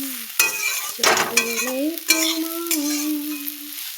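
Yardlong beans frying in a pan, with sharp stirring scrapes and bursts of sizzle breaking in, while a sustained melodic tone runs over the cooking.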